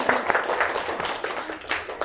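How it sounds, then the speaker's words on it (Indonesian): A group claps together, a dense and fairly loud burst of applause that continues steadily for a couple of seconds. "kita tepuk tangan dulu buat semuanya."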